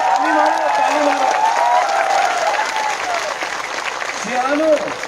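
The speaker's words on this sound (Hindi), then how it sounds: "ताली मारो," A crowd at a Tipra Motha mass political rally in Santirbazar gives sustained, loud applause that fades slightly midway, while a voice keeps speaking over the clapping.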